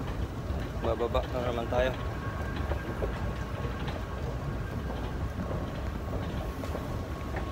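Busy indoor ambience inside a Dubai metro station, with a low steady rumble and hiss of the hall and possible train noise underneath, while a person talks close by at the start.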